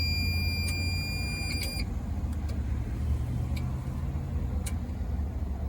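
A traffic signal controller sounds a high, thin buzzer alarm in short repeated pulses after a brief power loss, with steady low hum from nearby road traffic underneath.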